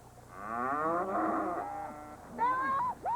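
Cattle on a cattle drive give a long, loud moo, then after a short pause a second shorter moo, close by with faint ambient noise underneath.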